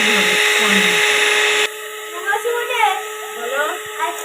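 An electric blender whips eggs for a fluffy cake batter in a home kitchen, a loud steady motor whine that cuts out abruptly after a couple of seconds, followed by people talking.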